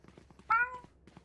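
A person's voice briefly imitates a cat, giving a single short, nasal meow amid low background chatter from a group of players.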